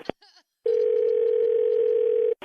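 A brief click and a short garbled burst come first, then a steady telephone dial tone holds loud and unbroken for nearly two seconds after the phone is hung up.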